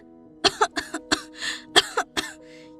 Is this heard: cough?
yes